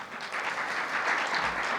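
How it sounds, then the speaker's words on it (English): Audience applause for an engineering team at a tech conference keynote, a short burst of steady clapping with no voices over it. "applaud the engineering team"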